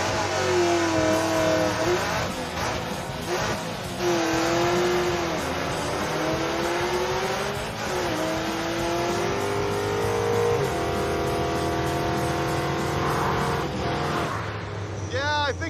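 A muscle truck revs hard and launches off the line on a drag strip, engine note climbing and shifting through several pulls, loud and close, with people talking over it.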